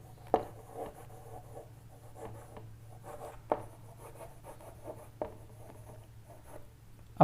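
Chalk or marker writes on a board during a strength of materials lecture, with soft scratchy strokes and occasional sharp taps over a steady low hum, faint and with no voices.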